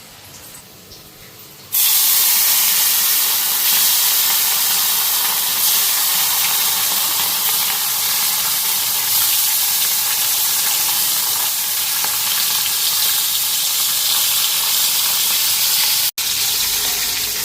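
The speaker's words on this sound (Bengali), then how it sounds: "এদিকে মাছগুলিও ভাজা হয়ে গেল।" Fish frying in a pan, a loud, continuous sizzle and hiss that bursts in after a quiet moment and holds steady, close up and alone, for around fourteen seconds before cutting off.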